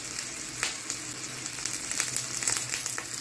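Curry leaves sizzle in hot oil on a stovetop for an egg masala curry, a steady close frying hiss with a brief louder crackle as the leaves drop in and scattered small pops after.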